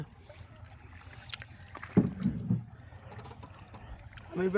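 A boat is rowed on a large river during a fishing outing: a couple of close paddle splashes and gurgles over light wind noise, with a brief voice near the end.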